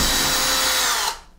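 A power drill spins steadily, backing a 2.5-inch drywall screw out of a toilet paper holder bracket, loud and close for about a second before cutting off abruptly.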